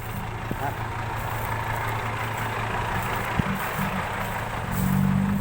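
A farm tractor works a rural dirt road, grading it, its heavy diesel engine rumbling steadily at a low pitch, fairly close, with a slight rise toward the end.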